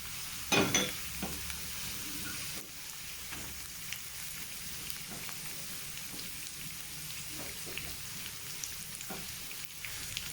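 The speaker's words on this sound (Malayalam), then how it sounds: "നമ്മൾ ഹൈ ഫ്ലെയിമിൽ തന്നെ വെച്ച് നന്നായി ഇളക്കി കൊടുക്കുക" Red and green capsicum stir-frying in a pan over a high flame, a soft rain-like sizzle throughout with a few light scrapes of stirring, fairly quiet and close.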